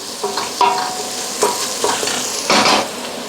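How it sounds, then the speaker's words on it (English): Onions, ginger and garlic frying in a pan are stirred in a few short scraping bursts over a steady close sizzle. "Give it a little stir."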